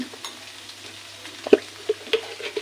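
Cabbage leaves frying and being stirred in a pan, a faint steady sizzle with a few sharper scrapes and clinks from the spatula, near and quiet, with no voices.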